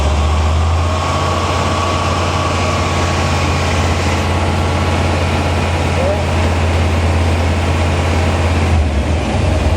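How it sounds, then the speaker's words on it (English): A vehicle engine held at raised RPM while timing is set with a scanner for a P1345 fault, a steady loud low drone running throughout with faint voices over it. "Raise your RPM."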